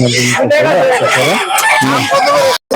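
A rooster crows loudly and close by at a busy village duck and chicken market in Meradia, Dhaka, with clucking fowl and background voices around it.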